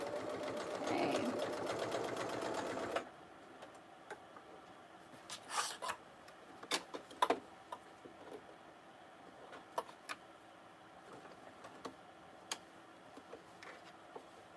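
A sewing machine stitching a fanny pack seam at a regular stitch length runs as a steady close whir for about three seconds. Scattered clicks and handling taps from fabric adjustments follow, and there is no talking.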